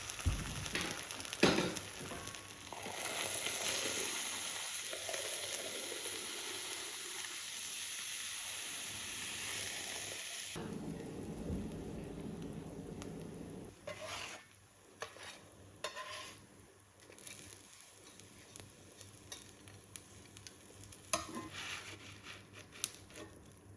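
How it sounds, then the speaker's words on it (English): Homemade Irish potato bread fries in butter in a pan, with a strong sizzle for the first ten seconds that drops to a quieter crackle and hiss. Occasional clatters and stirring scrapes break in nearby. "So I'm just going to fry it in butter."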